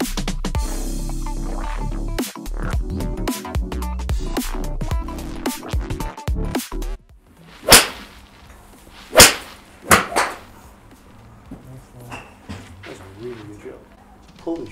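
Golf iron strike on a ball, comparing a Mizuno iron with a TaylorMade P790: after a stretch of noise, several sharp, crisp impact cracks ring out separately, fairly close and loud, with quieter gaps between.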